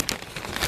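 A black plastic bag crinkles and rustles as it is opened, close and fairly loud, with continuous crackling for under a second.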